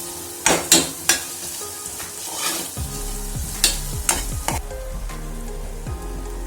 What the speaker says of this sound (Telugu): పచ్చి కడి వాసన పోయేంత వరకు దీన్ని కొంచెం ఫ్రై చేస్తాను.